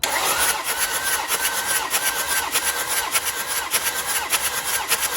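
A Volvo V60 engine with all its glow plugs removed cranks over steadily on the starter, a continuous close whirring spin with a fast regular pulse and no firing, heard alone without talk.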